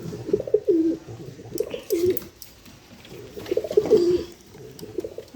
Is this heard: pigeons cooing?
yes